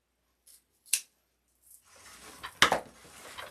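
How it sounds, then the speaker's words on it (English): Scissors snipping deco mesh while making a St. Patrick's Day wreath: a few close, crisp snips and clicks, followed by rustling of the mesh and a sharper cutting sound, with no talking. "I'm just going to cut the extra off and then attach it"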